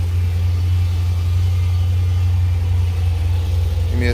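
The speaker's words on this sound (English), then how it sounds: "mid muffler delete on the SRT8 300" A 2010 Chrysler 300 SRT8 V8 with a mid muffler delete idles close by, a loud, steady, deep burbling rumble with a slight throb and no revving.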